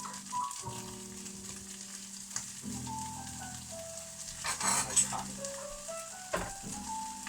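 Pork frying in a pan gives a low, steady sizzle with occasional clatter and stirring, faint and close, under soft background music tones.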